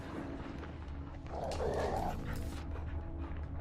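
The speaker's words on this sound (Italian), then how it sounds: "Fermi cani a cuccia." Dogs barking in The Witcher 3 video game, a burst of yelping and barking rising mid-scene over steady ambient game background, fairly close and moderately loud.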